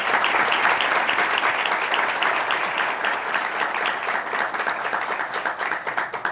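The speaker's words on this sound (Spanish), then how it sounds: "yo le pido un aplauso a ustedes por eso" An audience at a book conversation event applauds steadily, a dense, loud wash of many hands clapping that holds evenly for about six seconds, with no voices over it.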